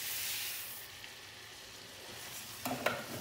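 Arborio risotto rice and cooked sausage sizzle steadily in a pan, a close, constant frying hiss that fades a little, then a few spoon scrapes and clinks as the mixture is stirred near the end.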